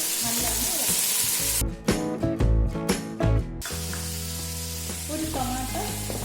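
Coriander powder, turmeric and chili powder sizzle in a pan for vegetable namkeen pulao, and a spoon stirs them in a burst of clattering scrapes over a steady background hum.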